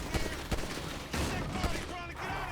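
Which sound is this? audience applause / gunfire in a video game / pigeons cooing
gunfire in a video game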